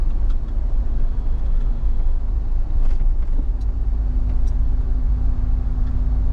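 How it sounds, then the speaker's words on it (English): Cars idle and crawl in a long line of road traffic, a low continuous rumble of engines heard from inside a vehicle, with a steady hum and occasional faint clicks. "There's a long line of cars and he couldn't wait."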